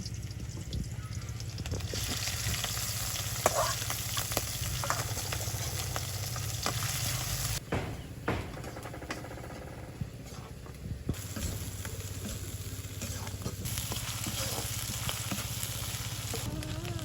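Small icha shrimp fry in oil with chopped onion and garlic in a village kitchen in Hatiya. A steady, close sizzle runs throughout with scraping stir strokes, briefly dipping twice before resuming.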